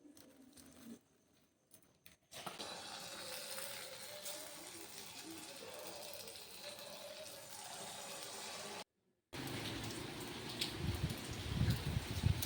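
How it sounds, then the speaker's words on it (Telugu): Evening rain falls steadily in Hyderabad, a dense, even patter of drops at moderate loudness that cuts out briefly twice, then returns with a few heavier, closer splashes toward the end. "ఇక్కడ మాకైతే ఈవినింగ్ వర్షం స్టార్ట్ అయింది. చాలా వర్షం అయితే పడింది."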